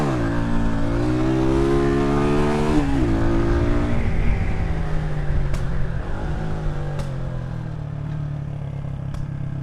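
A vehicle engine revs and shifts during spirited riding on the road to Annotto Bay, St Mary, with rising and falling harmonic pitch sweeps, loud and close, steady rumble underneath and occasional sharp clicks.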